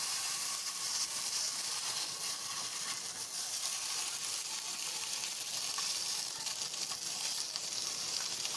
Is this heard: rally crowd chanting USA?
no